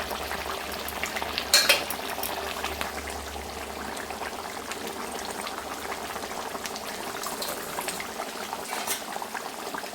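Fish curry with rui fish and new potatoes simmering in a pot as coriander leaves are gently stirred in, a steady low bubbling hiss with a brief louder scrape of the spoon early on.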